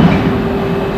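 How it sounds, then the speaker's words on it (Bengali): A train rumbles steadily at an unmanned automated container port in Tianjin, China, giving a loud, continuous low mechanical roar with a faint hum and no voices. "দেখতে পাচ্ছেন একটা ট্রেন অলরেডি।"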